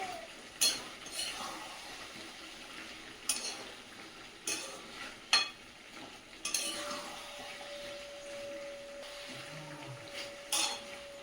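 Chicken is stir-fried in a pan, a faint sizzle under repeated metallic scrapes and clinks of a spoon against the pan, with a thin whine in the background.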